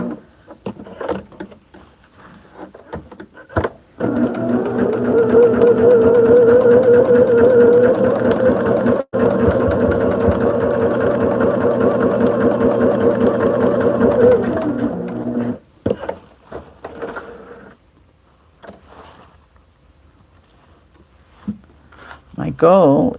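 A sewing machine runs steadily as it stitches fabric for a modern sampler quilt, humming loud and close for about twelve seconds, with short bursts before and after and a few light clicks.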